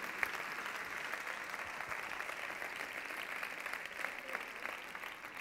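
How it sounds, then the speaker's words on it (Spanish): A crowd at a sports awards gala applauds as the mayor comes on stage, giving steady clapping that sounds somewhat distant and moderately quiet for the whole stretch. "Vamos a recibirle con un fuerte aplauso"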